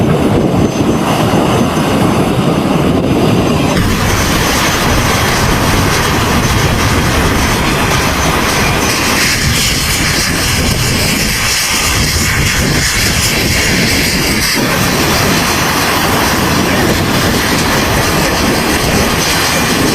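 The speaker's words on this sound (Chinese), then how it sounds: "加完油的蝰蛇攻击直升机继续起飞，返回战场" A US Marine Corps Viper attack helicopter takes off after refuelling, its turbine and rotor noise loud and continuous, roaring close throughout with shifting intensity.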